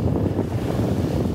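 Wind buffets the microphone over a steady wash of waves breaking on a beach shoreline, loud and continuous with no voices.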